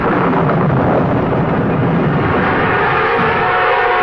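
Thunder in a storm rolls as a continuous loud, deep rumble, steady and unbroken for the whole stretch, with no voices over it.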